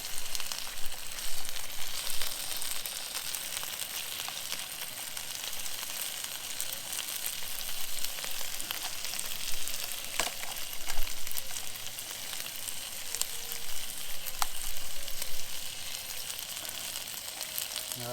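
Burgers and onions fry in a pan at a rainy forest motocamp, giving a steady, close sizzle and crackle with small pops throughout, no voices.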